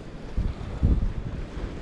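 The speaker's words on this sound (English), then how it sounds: "A lot of waves, a lot of wind. As you can hear." Strong wind buffets the microphone at a rough shoreline at sunset, with low rumbling gusts and waves surging in loud swells and no voices.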